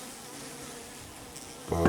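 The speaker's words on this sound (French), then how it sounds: "Bon, il y a des abeilles." Bees buzz steadily inside a small hive box holding brood frames, a close, continuous hum that swells louder near the end.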